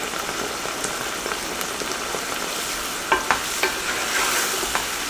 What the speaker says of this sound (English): We're going to saute for 3 to 4 minutes until the veggies soften